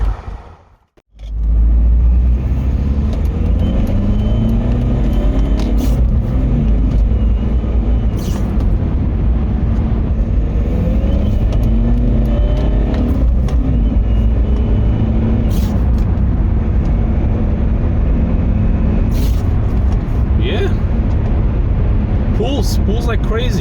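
Inside the cabin of a high-mileage, tuned BMW E46 on the move, a loud, steady low road and engine drone fills the car, with a voice talking over it much of the time.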